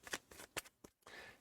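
A tarot card deck is shuffled in a few brisk riffles and flicks, soft papery snaps close to the ear, ending in a brief rustling slide.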